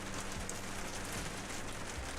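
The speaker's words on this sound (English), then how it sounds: "And it is raining. It is raining." Rain falls steadily on a surface as a soft, even hiss, faint and continuous with no voices.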